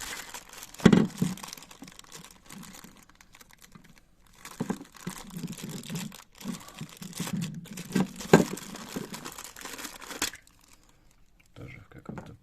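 A small plastic packet holding a soldering hot-air station's stand parts, with stickers on it, crinkles and rustles in bursts while being unwrapped, close up, through most of the stretch before a quiet pause near the end.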